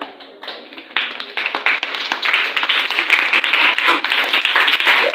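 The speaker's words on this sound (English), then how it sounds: "Join me in applauding" An audience at a Cambridge awards event bursts into applause, starting faint, then swelling into steady, dense clapping that carries on to the end.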